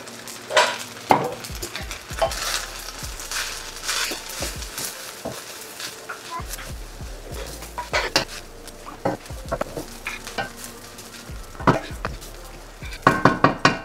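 Unsalted butter and soy sauce sizzle in a pan while a utensil stirs and scrapes, making a steady moderate fry hiss with irregular clinks and taps near the microphone.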